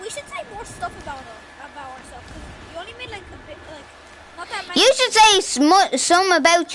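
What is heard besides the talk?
No everyday noises stand out.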